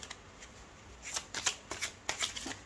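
Tarot cards being shuffled for a new moon reading, giving a string of quick papery riffles and slaps that come in short bursts, close and fairly soft, with no talking.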